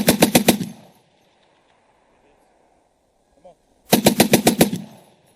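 Two rapid bursts from an M2 machine gun firing 12.7mm rounds, a short burst of about six shots then a longer one of about eight after a quiet pause, loud and close, with no talking.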